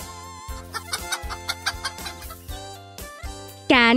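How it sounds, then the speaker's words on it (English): Hen clucking in a farmyard setting, a run of short rhythmic clucks close by with a louder drawn-out call near the end, no talking. "Hen."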